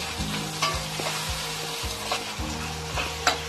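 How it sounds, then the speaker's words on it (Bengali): Baby corn with soy sauce and vinegar is stirred in a hot pan, a continuous close sizzle with rhythmic scraping strokes of the spatula repeating every second or so. "একসঙ্গে ভালো করে মিশিয়ে নেব।"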